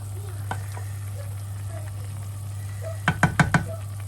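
Hilsa fish fries in oil in a pan with taro stolons, a steady quiet sizzle under a low hum, with a quick run of four stirring clatters near the end.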